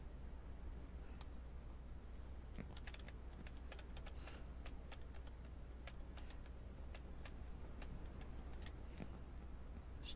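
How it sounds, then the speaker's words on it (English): Noisy computer keyboard clacking under quiet play of Ranch Simulator, irregular sharp keystrokes scattered over a low steady hum, fairly faint and with no talk. "Sorry about the noisy keyboard."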